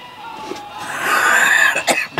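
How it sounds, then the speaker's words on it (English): A single short, rough cough bursts out close by, followed by a brief throat-clearing sound. "He's still got a little bit of cough."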